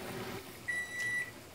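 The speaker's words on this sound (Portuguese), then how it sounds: "Nosso micro-ondas apitou mais um minuto." A microwave oven gives a single thin, high beep lasting about half a second, quiet against faint room background.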